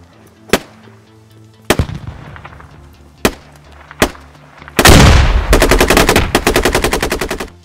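Gunfire in the tactical shooter Squad: scattered single rifle shots, then a heavy frag grenade blast followed by a sustained rapid burst of automatic fire, loud and close; no talking.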